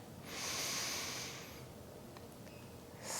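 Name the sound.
deep inhalation before chanting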